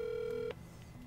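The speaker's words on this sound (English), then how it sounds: "Would you like me to call 613-591-0836? Yes. Dialing 613-591-0836." A QNX CAR infotainment system in a car dashboard gives off a steady electronic telephone tone for half a second as it dials a call, then cuts to a quiet line hum.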